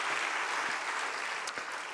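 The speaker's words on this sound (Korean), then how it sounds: "네, 박수 한번 주시죠." A youth worship congregation at church applauds, a continuous even patter of many hands throughout the short moment with no distinct voices.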